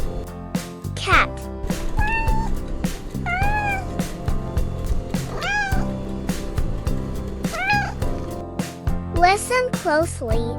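A cat meows repeatedly, some calls long and drawn out, over continuous background music in a kindergarten animal-sound guessing game.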